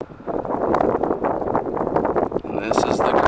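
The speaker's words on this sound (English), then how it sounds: "I'm sorry about the wind too" Gusty wind buffets a microphone at an old graveyard in Arizona, with a rough, roaring rumble that rises and falls over a few seconds, with no clear talking.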